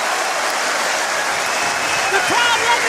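A Wimbledon tennis crowd applauds and cheers in a dense, steady wash of clapping that swells slightly toward the end, with a commentator's voice faintly underneath.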